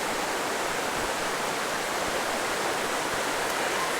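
Fairly large river rushing through a forest eco-park at Sungai Tua, a dense, steady broadband wash of flowing water, close and continuous with no voices.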